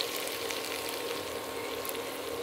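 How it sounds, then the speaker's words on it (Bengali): A Bengali spice paste of chili powder and cumin fries in a pan as sour yogurt is added, giving a steady close sizzle and crackle throughout, with a small clink near the end. "মশলা কষানো হয়ে গিয়েছে, এবার টক দইটা দিয়ে দিচ্ছি।"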